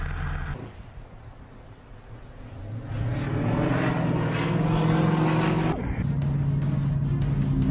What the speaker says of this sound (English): The Yak-52 demonstrates a torque roll, a move where the aircraft spins using the engine's rotational force.